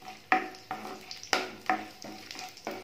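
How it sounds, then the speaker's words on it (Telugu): Tempering seeds drop into hot oil in a pan, giving a run of sharp sizzling bursts and crackles, each flaring then fading, close and fairly quiet with no talking. "తాలింపు గింజలు వేసుకోవాలి."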